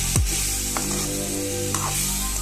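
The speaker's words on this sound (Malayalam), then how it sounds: "ഇനി അത് നന്നായിട്ട് ഇളക്കും" Star fruit pickle stirred into its spice mix: a steady, close hiss with a few soft scraping clicks spread through the mix.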